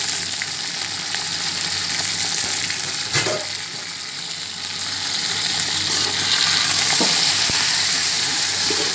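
Salted chicken fries in a pan for Sindhi biryani, giving a loud, steady, close sizzle that swells slightly toward the end, with a few soft knocks of stirring.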